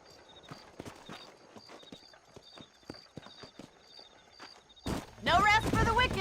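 Horse hooves clip-clop at a steady walking rhythm in the western video game Red Dead Redemption, fairly close and moderately loud, before a louder burst of speech and game noise takes over at the end.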